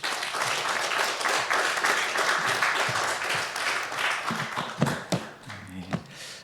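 Church congregation applause welcoming a speaker to the pulpit, a warm, sustained burst of clapping that thins into scattered claps, with a few faint voices underneath.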